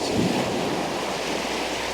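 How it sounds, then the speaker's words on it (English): Sea waves wash over a rock at a pebbly shoreline at sunrise, a steady, loud rushing surf that fills the whole stretch with continuous broadband noise, slight wind buffeting the microphone. "Wait for the water to come up, cover up the rock"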